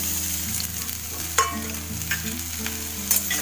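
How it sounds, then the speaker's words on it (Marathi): Chopped onion browns in hot oil in a kadhai, giving a steady close sizzle broken by a few sharp stirring scrapes, over a low humming background tone. "आणि हा जो कांदा आहे ना, तो मी शेकून घेणार, चांगला लाल करून घेते."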